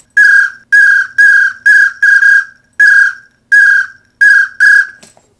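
A specialty duck-hunting call for pintails blown in a series of about nine short, sharp trilling whistles, each burst loud and close with brief pauses between, some doubled.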